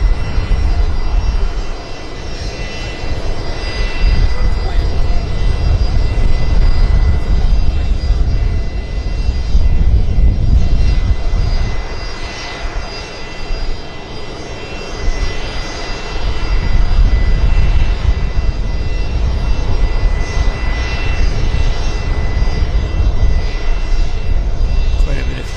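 An airplane lands on the north side of Vancouver Airport in strong winds, a loud, sustained engine roar that swells and fades over about twenty-five seconds under wind noise and voices.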